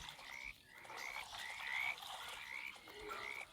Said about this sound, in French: Oh non, Il y a les grenouilles.